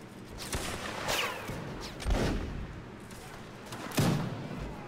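Distant musket volleys crackle in Mount & Blade Napoleonic Wars on a minisiege server, with several separated shots and booms ringing out over a steady battle din.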